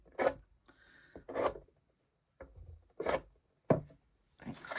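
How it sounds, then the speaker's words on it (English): A small plastic card scratches expressive lines into damp watercolour paper while white flowers are being painted: about five short, close, dry scraping strokes separated by brief pauses, with no talking. "I haven't done the little line scratches that I want with my little card"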